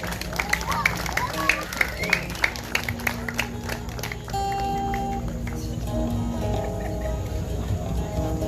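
A graduation crowd at an English institute ceremony claps steadily, with scattered sharp claps building into sustained applause and murmuring voices as a graduate walks forward.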